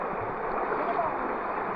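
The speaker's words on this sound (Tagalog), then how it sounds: "yung tunog ng agos ko." Steady rushing water of the Dapya River in Cabangan, Zambales flows continuously, a broad close-up wash of current with no voices over it.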